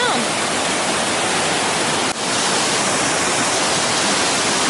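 A waterfall in The Catlins, New Zealand, pours and splashes off rocks as it comes down, a loud, dense, unbroken roar of rushing water heard close up, with no talk over it.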